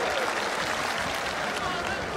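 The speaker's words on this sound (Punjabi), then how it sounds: "ਇੱਦਾਂ ਮਾਰ ਲਓ ਤਾੜੀ" A dense audience at a live Punjabi music event in a grain market claps steadily, a continuous wash of many hands with no breaks, and a few voices are mixed in beneath it.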